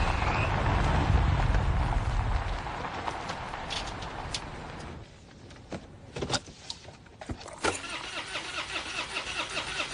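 A car engine cranks and struggles to start in a scene where the power steering has failed, with a loud churning crank for several seconds, then a pause and repeated brief starter attempts.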